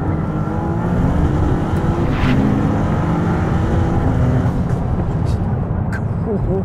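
A Maserati MC20 supercar launches hard under launch control, its engine a loud, low, close roar building through the gears, with someone talking over it.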